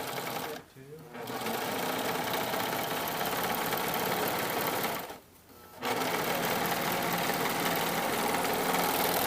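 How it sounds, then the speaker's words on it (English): Serger stitching elastic onto swimsuit fabric runs loud and steady in two long bursts with brief pauses between them. "Serge it to the right side of the fabric."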